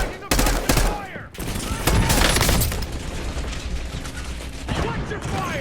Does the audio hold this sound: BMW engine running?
no